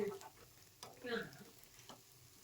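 Semolina appe sizzle softly in a pan as they are flipped, a faint steady fry broken by a few gentle clicks and scrapes of turning.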